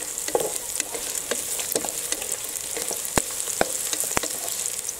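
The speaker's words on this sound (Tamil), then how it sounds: "முந்திரி பருப்பை சேர்த்து நல்லா வதக்கி விட்டுக்கலாம்" Cashew nuts and softened onions frying in a pan for a coconut-milk masala rice, a constant bright sizzle with crisp scattered crackles and stirring clicks, near and steady, no voices.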